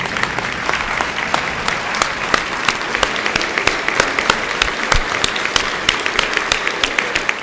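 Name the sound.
standing audience applause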